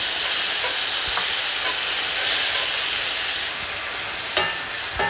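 Black beans fry in a pan with a steady, loud broadband sizzle and hiss, a few soft stirring clicks near the end as the frying eases slightly; no one speaks.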